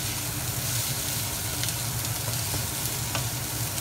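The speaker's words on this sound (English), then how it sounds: "Give it a stir." Onions and peppers sizzle steadily in a hot pan on medium heat, a dense, close frying hiss with soft scraping and stirring clicks throughout.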